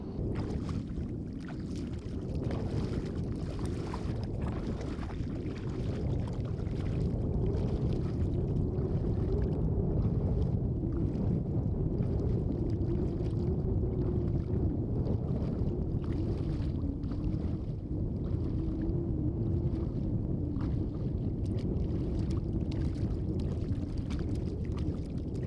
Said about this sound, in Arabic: هنا مش هتسمع غير صوت المية والمراكب